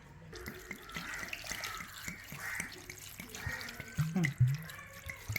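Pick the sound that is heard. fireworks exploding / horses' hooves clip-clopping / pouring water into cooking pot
pouring water into cooking pot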